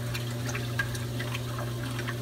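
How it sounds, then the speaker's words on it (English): Water bubbles and trickles through an eShopps 120 protein skimmer beneath a 125-gallon saltwater aquarium, a steady gurgling stream with small splashy pops over a constant low pump hum, with no talk. "The water basically bubbles up through it and pulls out all the solids."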